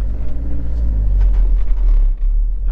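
A loaded farm truck, stuck in mud while sowing field beans, revs its engine in a loud, deep, continuous rumble that strains steadily and dips briefly near the end.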